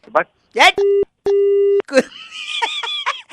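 Short bursts of talk and laughter interrupted by two steady electronic telephone busy tones after a hang-up, followed by more voices.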